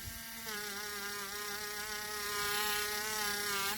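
A buffing wheel whines steadily against the edges of a polymer clay pendant, a constant high motor drone with a slight rise and fall in pitch as the piece is pressed in.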